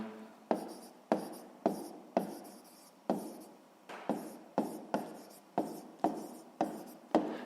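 A pen scratches out a written math answer on paper during a sixth-grade geometry exercise, about a dozen quick, close strokes in a steady rhythm, with no talking.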